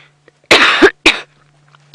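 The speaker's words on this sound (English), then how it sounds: "Something in the air has made me cough." Two sharp coughs, the first longer and rougher and the second shorter, from a person outdoors on a safari drive in the Djuma bush, over a faint steady hum.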